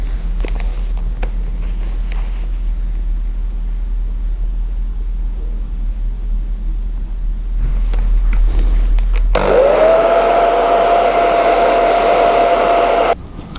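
After some quiet handling noise, a hair dryer switches on and blows with a loud steady whoosh and a whine over glue on a leather repair, then cuts off.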